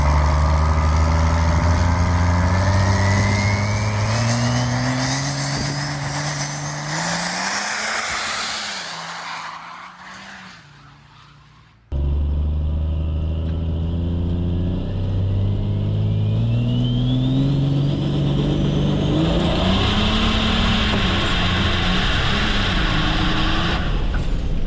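A nitrous-fed diesel drag truck on a dirt track makes a test pass, its engine roaring loud and near with rising revs across gear changes, then a brief drop before it pulls hard again through a long climbing howl.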